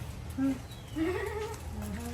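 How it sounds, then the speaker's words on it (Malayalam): A goat bleats twice in short nasal calls, close by, over a steady low background hum, with no talk during the cries. "ആട് കരയുന്ന കേക്കാ"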